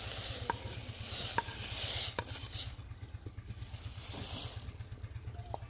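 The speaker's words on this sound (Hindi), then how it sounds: "पानी उबल चुका है, चावल शामिल करेंगे पानी के अंदर।" Rice pours into a pot of boiling water over a steady low hum, with a few light clinks of utensils.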